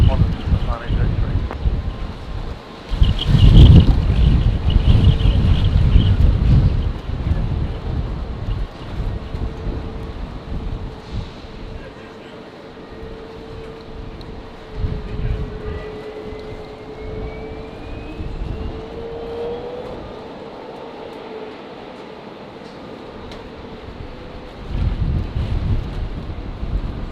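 A plane takes off from runway 19 left at Brisbane Airport in strong wind, a steady roar with a faint rising whine, buffeted by gusty wind rumble that swells and fades across the stretch.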